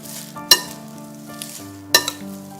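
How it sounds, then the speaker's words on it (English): Seaweed pasta being stirred together with fresh lemon juice in a bowl, a soft continuous mixing with two sharp clinks of a utensil against the bowl, close and alone. "Now we can just mix everything together."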